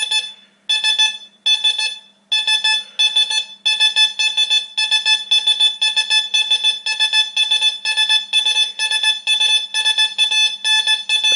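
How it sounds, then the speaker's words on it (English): A metal detector's coil swept very fast over a target to test recovery speed gives loud, rapid, repeated electronic tone bursts that run almost continuously, with no talking. "Nobody's going to swing that fast with this detector."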